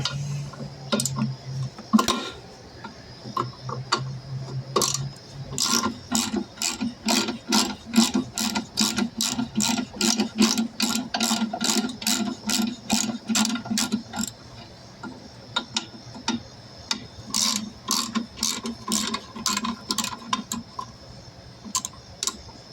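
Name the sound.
ratchet being used on a carburetor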